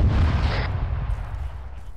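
Enemy mortar fire in Arma 3 lands as a heavy, booming blast at the start and rolls off into a low, fading rumble, loud and alone without talk.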